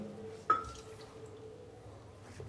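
Two to three tablespoons of water added to a blender jar of onion, ginger, garlic, green chili and coriander masala, producing one soft, close drip or splash followed by a faint ringing tone over quiet room noise.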